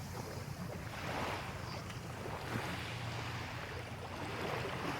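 Sea waves break and wash along a beach in a steady, broad rushing roar, mixed with wind buffeting the microphone, with no voices.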